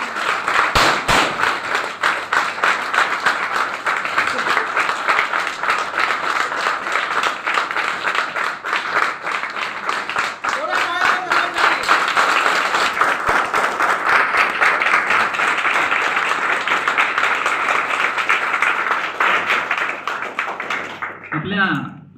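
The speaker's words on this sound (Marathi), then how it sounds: "जोरदार टाळ्या वाजवा" Loud applause from an audience at a New Year celebration gathering, a long sustained roar of many hands clapping close and dense for about twenty seconds, with a few sharp claps and voices mixed in before it stops abruptly.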